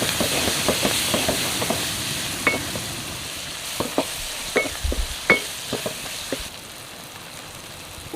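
Tomatoes fry in an oiled pan for a fish curry, a steady hiss with scattered sharp crackles and stirring clatter, close and alone.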